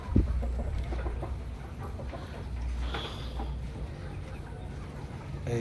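Desi chickens on a poultry farm heard from outside the shed, soft scattered clucks over a steady farmyard hum, moderately distant and low in level.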